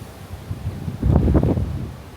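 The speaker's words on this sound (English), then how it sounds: "we got these 50 mile an hour gusts at the moment" Wind gusting around 50 mph buffets the microphone in a low, rumbling surge that swells and roars for a moment before easing back to a steady rush, during a storm while carp fishing.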